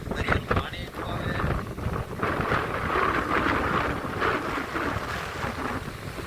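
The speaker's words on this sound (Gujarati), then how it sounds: "પવન એટલો છે, દરિયાનું પાણી એટલું આવે." Strong sea wind batters a boat out on the water, a continuous loud rushing roar buffeting the microphone with a swishing wash of water beneath it.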